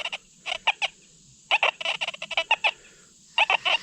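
Chirping, warbling tones from a Minelab Deus 2 metal detector sweeping over a buried dime come in three distinct bursts of rapid pulses over a steady thin hum, close and clear with no talk.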